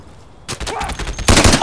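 Gunfire in the video game Insurgency comes as two bursts of rapid shots, a quieter volley followed by a louder, denser one, after a near-silent start.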